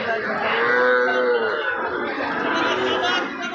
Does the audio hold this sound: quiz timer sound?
no